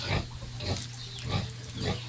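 A native sow with her piglets grunts in a steady series of low, close, rhythmic snorts and oinks, about four grunt bursts in quick succession over a rustling farmyard background.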